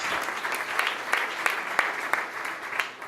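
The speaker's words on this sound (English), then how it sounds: "Big applause for Carlos" Audience applause at the South Summit 2017 healthcare and biotech startup competition, a dense steady clapping from a full room for a pitch, holding at moderate level throughout with a few sharper individual claps standing out.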